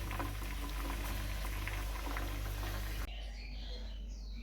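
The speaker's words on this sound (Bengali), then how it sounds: "মাছের ঝোলটা একটু গরম করে নিচ্ছি" Fish curry heats in a pot at home, giving off a steady bubbling hiss that is close and soft and then drops away sharply near the end.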